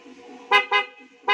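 A louder, brassy aftermarket horn on a 2020 Yamaha NMax motorcycle blasts three short beeps in quick succession, the first two close together and the third after a brief pause.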